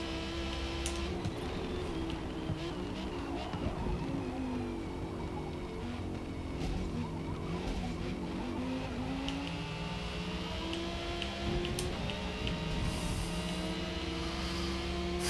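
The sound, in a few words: supercar engine and tire skids in video game Forza Motorsport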